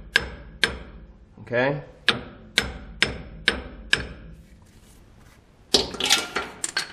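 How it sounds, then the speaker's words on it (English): A hammer lightly taps a pinion seal into a Ford/Dana axle housing, seven or so crisp, evenly spaced metallic taps, then a quick cluster of clinks; a voice speaks briefly between strikes. "You just simply tap on this evenly all the way across, real light"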